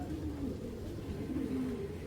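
A pair of large racer pigeons coo in soft, repeated low calls, close by and steady against a quiet background.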